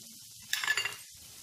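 Coriander and turmeric powder hitting hot oil for dhaba-style paneer masala, with a brief burst of sizzling and a spoon stirring through the pan for about half a second between quiet stretches.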